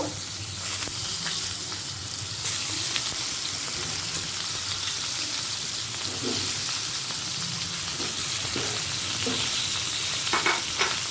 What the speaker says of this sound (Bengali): একই তেলেতে আমি আলু আর পটলটা ভেজে নেব